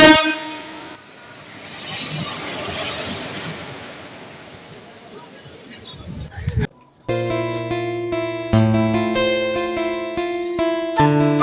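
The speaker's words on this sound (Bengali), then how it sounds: "তোমরা দেখতেই পাচ্ছ ট্রেনের আওয়াজটা" A train passes loudly with rumble and wind noise, fading out before a break, then music with sustained tones follows.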